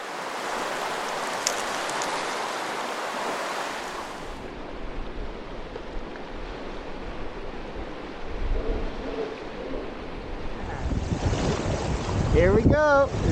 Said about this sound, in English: a very fun section of continuous whitewater as the river